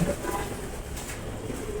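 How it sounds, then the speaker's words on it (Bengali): Soft, low cooing from male racer pigeons resting in their loft chambers, a brief murmur near the start and then faint, steady background from the roosting birds. "এগুলি সব নর কবুতর।"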